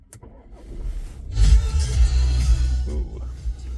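A 2018 Audi A4 Allroad 2.0 TDI diesel is started with its push button, giving a short electrical whir and then the engine catching into a loud, steady idle rumble that settles a little at close range.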